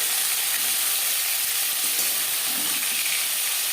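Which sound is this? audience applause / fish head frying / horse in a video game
fish head frying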